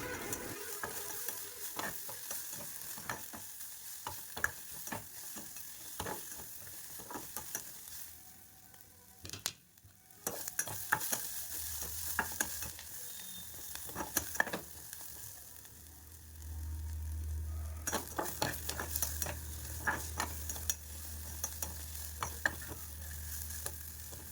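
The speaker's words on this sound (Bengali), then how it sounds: "এরপর সামান্য গোটা ধনে নিয়ে ওটাও আমি ভেজে নেব।" Whole coriander seeds fry in a pan for a mushroom dish, crackling and sizzling steadily with frequent scraping stirs and a short quieter pause midway, close up with no talk.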